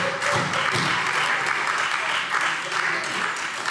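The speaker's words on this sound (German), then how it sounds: "Applaus" Applause in a Hessian parliament plenary session, a dense steady wash of clapping from many hands filling the chamber throughout, with some voices mixed in beneath.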